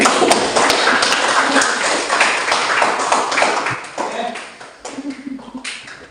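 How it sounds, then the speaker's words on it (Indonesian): A classroom audience applauding, a loud dense patter of many hands clapping that gradually thins out and fades toward the end, with a voice speaking over it. "Berikan aplaus dulu"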